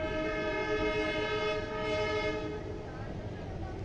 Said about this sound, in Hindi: अपने समय से 14 मिनट की देरी के बाद रवाना होते हुए काठगोदाम की तरफ